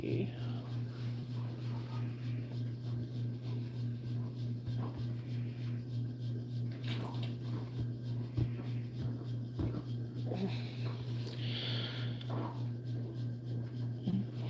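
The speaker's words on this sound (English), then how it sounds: "there's a dog in the other room chewing on a bone" A dog gnaws on a bone in another room, giving faint, intermittent scratchy scraping sounds beneath a steady low electrical hum.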